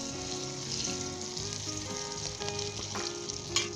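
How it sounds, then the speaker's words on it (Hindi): Italian herbs, salt, black pepper, yellow colouring and finely chopped green chilli sizzle steadily in hot vegetable ghee in a pan for egg fried rice, with a close, continuous crackle and an occasional stir. "वेजिटेबल घी डाल दिया है, और इसके अंदर हम ये इटालियन हर्ब, नमक, काली मिर्च और पीला रंग, और एक सब्ज़ मिर्च मैंने बारीक काट ली है, ये डाल देंगे।"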